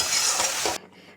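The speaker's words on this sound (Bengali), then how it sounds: "এখানে আলু কষানো চলছে" Potatoes sautéing in a pan for an egg and potato curry give a loud, close, steady sizzling hiss that cuts off abruptly just before the end.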